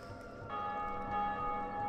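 A bell tolls inside the video game Dark Souls Remastered, with a sustained ringing tone that starts about halfway through and holds steady over a dense bed of game ambience and sound effects.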